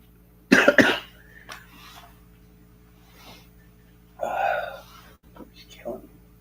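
A person coughs nearby in two separate harsh bouts, the first sharp and loud and the second longer, with quieter throat and breathing sounds between them.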